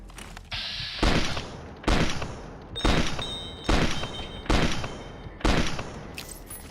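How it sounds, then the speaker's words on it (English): Gunfire in Fallout 3 / New Vegas: six loud, close bursts of shots at steady intervals about a second apart, each a sharp crack that rings out briefly before the next. "Who is shooting at us?"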